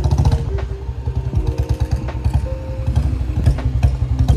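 A Bullet motorcycle engine runs close by with a loud, pulsing low thump and a rhythmic chugging beat, steady throughout.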